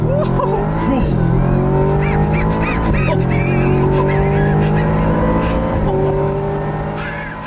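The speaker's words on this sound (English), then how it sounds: "Put into drive. Brake torque a little bit." A car launches hard from brake torque with a loud, close engine roar that rises steadily in pitch through the gear, tire noise underneath, and excited voices mixed in.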